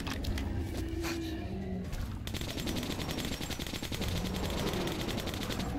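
Sustained rapid gunfire in Metro Last Light Redux, a dense, continuous machine-gun rattle that stays loud throughout, with roaring creatures mixed into the background.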